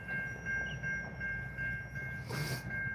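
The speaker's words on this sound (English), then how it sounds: "And here comes the loudest train you ever heard in your life." A commuter train rumbles past close by along a river, a loud continuous roar of rolling wheels with a steady high tone and a brief burst of noise near the end.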